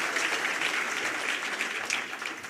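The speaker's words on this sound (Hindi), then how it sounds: "एक जोरदार तालियां प्रधानमंत्री जी के लिए भी होनी चाहिए" Sustained, dense applause from an audience at a BJP state office event honouring Dr. Syama Prasad Mookerjee, loud and steady throughout with no speech over it.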